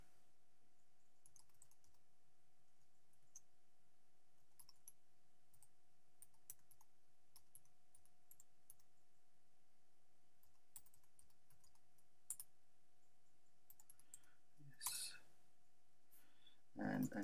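Keys click on a computer keyboard while a password is typed, faint scattered taps spread over a long stretch with a steady low hum beneath and a couple of louder bumps near the end.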